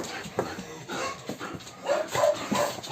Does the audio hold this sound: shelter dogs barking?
yes